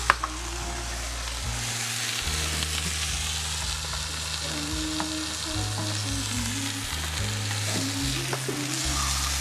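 Butter sizzling in a large frying pan as bread is toasted, a constant close frying crackle with scattered stirring and utensil clinks, music running faintly underneath.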